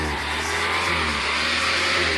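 A 1996 Mitsubishi Spyder runs after repair work that included a replaced cylinder head and new spark plugs and wires. The engine hums steadily and evenly up close, with a constant tone and no talking.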